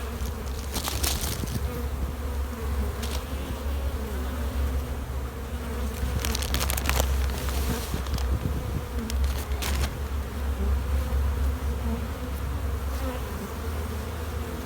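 Honeybees buzz steadily inside a hive brood chamber, a dense, continuous drone close to the microphone, with occasional brief crackles and bumps from handling the hive.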